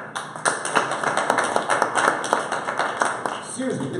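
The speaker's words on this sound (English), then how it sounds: "I want a round of applause to those guys right" A Java user group audience at a San Francisco career workshop gives a round of applause, a steady patter of many hands clapping at moderate distance under a constant background hum.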